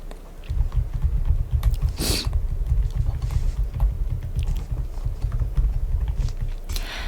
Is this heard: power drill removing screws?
no